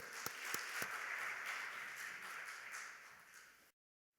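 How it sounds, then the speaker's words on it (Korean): Audience applause in a church service, a dense steady clapping from a congregation with a few sharper claps early on, holding evenly for over three seconds before cutting off abruptly. "우리 뜨겁게 박수로요."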